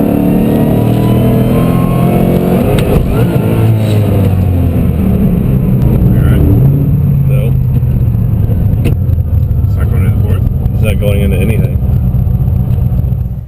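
A car with a newly broken-in Centerforce DYAD DS multi-disc clutch accelerates on a test drive, its engine note climbing and shifting through gears, loud and close from inside the cabin as people talk over it.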